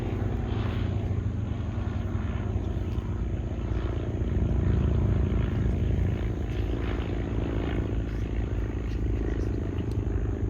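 A Boeing-Stearman PT-17 biplane's propeller engine drones steadily nearby as it taxis, a constant throbbing rumble that swells slightly midway, with no voices.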